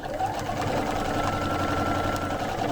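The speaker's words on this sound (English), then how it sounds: "So now I'm just quilting. Now I'm just quilting the quilt." A sewing machine quilts a baby quilt, its steady mechanical whir running continuously and close for the whole stretch without a break.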